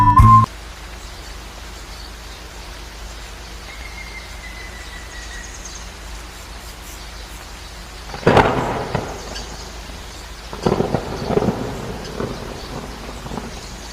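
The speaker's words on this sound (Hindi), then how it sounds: "अचानक से जोरों की बारिश होने लगती है।" Steady rain hisses throughout, broken by loud rumbling thunderclaps later on, a storm heard from indoors at moderate distance.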